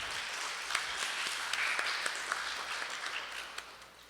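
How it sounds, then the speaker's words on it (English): Audience applause fills a hall at the National Tassa Rama 2022 award ceremony, a soft, steady wash of many hands clapping at a distance, holding evenly for about four seconds before easing slightly. "I think they deserve a hearty round of applause"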